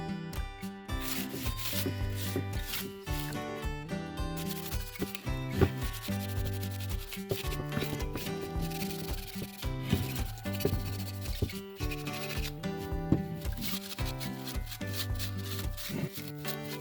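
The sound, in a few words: scrubbing a wooden bunny decoration clean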